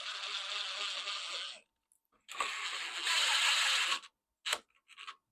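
Ratcheting tool tightening 3/8 bolts on a lawn mower cover, with long steady clicking runs broken by short pauses and a few brief final clicks, close and clear.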